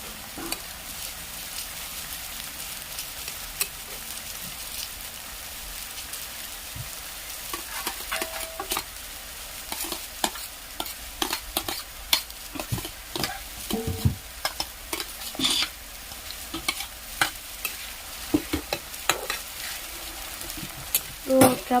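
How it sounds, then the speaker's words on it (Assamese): Masala for a paneer dish frying over high gas flame in a pan, a steady close sizzle with a growing run of sharp spatula scrapes and clicks from stirring, busier and louder toward the end, no voices. "ভালকৈ ভাজিব কেঁচা গোন্ধ যোৱালৈকে।"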